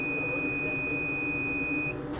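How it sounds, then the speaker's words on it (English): A laser engraver sounds a steady electronic beep when its job finishes, one continuous high tone held for about two seconds before cutting off, loud and close over faint room hum. "as soon as it's done, it's going to beep"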